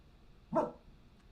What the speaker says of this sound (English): there's a dog going by.